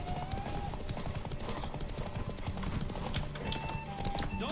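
Horse hooves clip-clop steadily under a rider in The Witcher 3, a rhythmic run of close, moderately loud hoofbeats over game ambience, with a brief whinny-like tone and faint background sounds.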